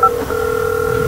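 A phone in the video game GTA 5 sounds a steady electronic dial tone, preceded by a brief keypad beep, loud and continuous with no voices.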